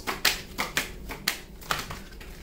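Tarot cards are shuffled and drawn in a quick series of about six crisp, close slapping snaps with short gaps between them and no talking.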